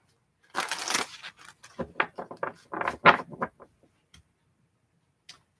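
Tarot cards shuffled in a quick burst of crisp, papery riffling and patter, fairly close, fading into a few scattered taps and silence.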